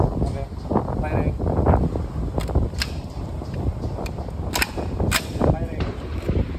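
A CZ 805 BREN rifle fires at an outdoor firing range, sharp distant cracks spaced irregularly through wind noise, with people talking close to the microphone.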